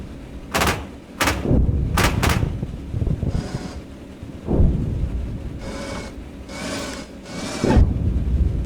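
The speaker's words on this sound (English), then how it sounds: "There comes the artillery." Artillery fire in the PC game Gunner Heat, with a Marder A1 vehicle in play: a rapid series of sharp booming blasts followed by spaced, rumbling explosions, loud and close.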